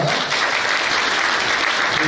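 Dense applause from a crowd at a political party's founding convention, approving the chosen chair, steady and close throughout with no pause.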